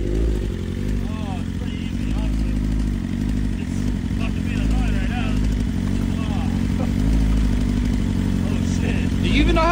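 A motorcycle engine idles and revs steadily at close range, with some clatter and faint voices talking over it.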